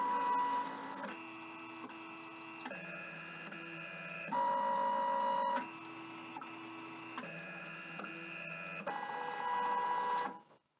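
GCC Expert II LX vinyl cutter moving its carriage as it reads register marks with a laser, a close, motorized whir in several distinct steps with brief pauses and shifts in pitch, and no talk.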